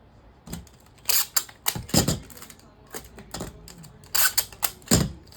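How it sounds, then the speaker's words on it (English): Short bursts of packing tape being pulled and torn off to seal the bottom of a box, with repeated sharp ripping strips arriving irregularly at close range and no voices. "get a few little pieces of this packing tape, and we're going to tape it shut at the bottom"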